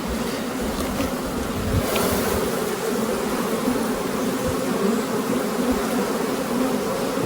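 Honeybees buzz steadily throughout during an open hive inspection for a June honey harvest, a dense, continuous near drone with no talking.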